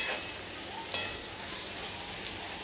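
Bitter gourd curry is stirred in a pan, giving a soft, steady sizzle with a few faint scraping clicks of the spoon, quiet and close, with no talk.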